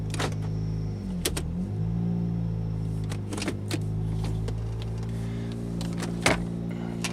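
A Pontiac car engine idles steadily at a low, even hum, heard from inside the car with the climate controls and high-mounted shifter nearby, with a few sharp clicks and knocks on top and no talking.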